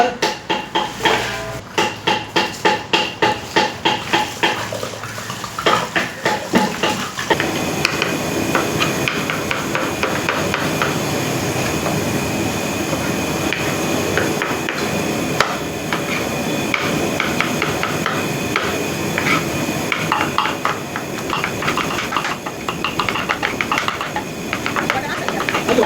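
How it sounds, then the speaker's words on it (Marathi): Rapid, steady knife strokes finely chop potato, carrot and cauliflower for a catering order, a dense run of sharp taps on a board with kitchen bustle and voices in the background throughout. "वा वा छान बारीक कापाय चाललंय."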